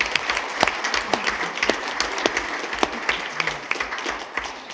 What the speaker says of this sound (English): if you'd like to give her a great big round of applause